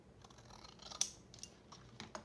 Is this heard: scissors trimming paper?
yes